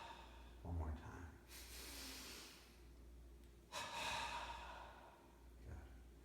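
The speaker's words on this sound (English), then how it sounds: "inhale and tense the body. And then exhale through the mouth and relax the body." Slow breaths during a guided relaxation exercise, inhaling and exhaling through the mouth: two long, audible airy breaths, each spread over about a second, heard close up against a quiet background.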